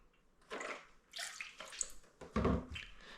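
Almond Breeze unsweetened almond milk is poured into egg whites and buttermilk, giving soft, close, irregular splashing and gurgling liquid sounds that swell and ebb, with no talking.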